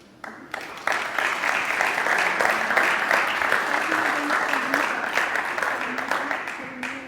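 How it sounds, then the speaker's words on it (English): Applause following Dr. Ramón Gómez Meda's talk on patient care, beginning after a brief quiet moment and continuing as a full, steady wash of clapping with a faint voice murmuring underneath. "I hope you heard your applause."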